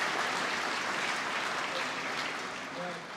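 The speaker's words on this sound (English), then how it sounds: "Please join me in a round of applause to our incredible Vaughan Chamber Board of Directors." Audience applause for a chamber of commerce board of directors at a city business luncheon, a steady, dense wash of clapping from a large crowd that holds level throughout, then eases slightly near the end.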